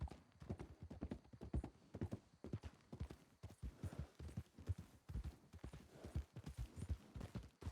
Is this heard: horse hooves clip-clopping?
yes